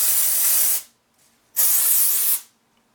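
Dry shampoo is sprayed onto straightened natural hair from about 8 to 10 inches off the scalp. There are two loud, steady hissing bursts of close aerosol spray, each under a second long, with a short quiet gap between them.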